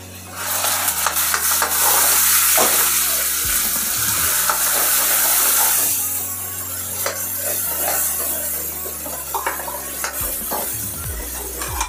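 Steady sizzling of fish curry spice paste with onion in oil in a hot pan, with scraping stirs throughout, quieter in the second half, over soft background music.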